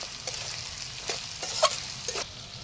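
Onions with chopped chilies stir-fried in a hot pan, a steady sizzle broken by a few scraping stirs of a spatula, close and alone with no voices.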